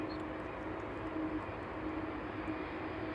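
A 36-year-old cargo aircraft landing at East Midlands Airport on a chilly evening, heard as a faint, steady, distant broadband jet roar with no talk.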